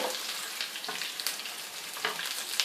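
Whole dried red chillies, three of them, sizzle and crackle steadily in hot oil for a masoor dal tempering, a loud, dense frying hiss with small pops, close up and alone.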